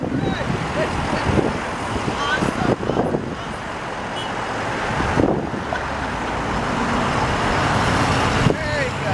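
Steady street traffic washes past on a roadway beside a parallel street, a continuous broadband roar with passing vehicles surging and fading and some wind buffeting, heard during a pedestrian walk.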